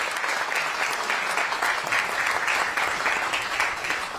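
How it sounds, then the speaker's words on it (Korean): Steady, sustained applause from a seated crowd at the opening ceremony of the Ministry of Oceans and Fisheries office in Busan, many hands clapping in a continuous even wash with no voices over it. "모든 분들께 큰 축하의 박수 한번 보내주시면"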